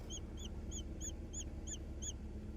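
A cold, weak baby chick gives a steady run of seven thin, high chirps at an even pace. The chirps are soft and sit over low background hiss.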